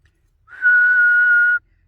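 A person whistles one steady, loud, level note into a CB radio microphone while testing a simple AT111 dipole antenna on 26 MHz in AM, heard alone for about one second.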